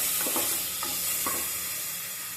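Chopped tomato fries in a pan with a steady bright sizzle, punctuated by a few quick spatula stirs and taps in the first half, then an even hiss fading slightly.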